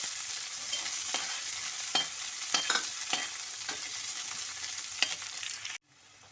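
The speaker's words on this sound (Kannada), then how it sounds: "ಈಗ ಉಳ್ಳಾಗಡ್ಡಿ ಹಾಕ್ತೀನಿ" Onions fry in a pan for veg hakka noodles, a quiet steady sizzle broken by several sharp scraping stirs, then cut off abruptly near the end.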